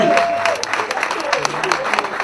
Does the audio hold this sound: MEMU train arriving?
no